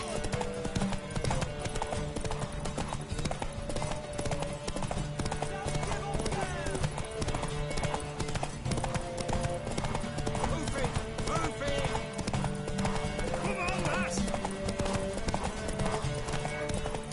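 Rapid clip-clopping horse hooves gallop steadily throughout in the video game Witcher 3, mixed with music and occasional voices, busy and loud the whole time.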